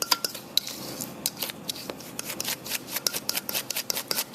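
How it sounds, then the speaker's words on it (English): A fork presses an egg yolk mixture for a lemon custard pie while the bowl is turned, giving a steady run of soft scraping and rubbing strokes, close and quiet. "I'm using the same method of pressing it through the fork and spinning the bowl with the other hand"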